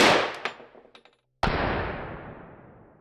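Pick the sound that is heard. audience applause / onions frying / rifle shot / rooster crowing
rifle shot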